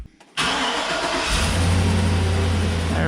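A truck engine cranks and catches after a brief quiet moment, then revs and settles into a loud, steady running roar close by, with no talking.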